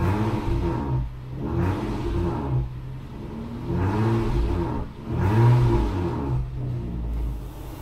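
A Honda Accord CP3 with a modified catalytic-converter exhaust revs up and settles repeatedly in a rough, throaty rumble like a delivery truck, rising and falling about four times, close and loud with no talking.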